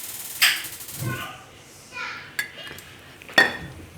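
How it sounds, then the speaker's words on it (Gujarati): Spoon clinks and scrapes against a bowl while mixing a spice masala of Kashmiri chili, salt and oil for sesame paratha, a few sharp taps between softer stirring, with quiet talk in the background. "અને આને મિક્સ કરી લઈશું આપણે"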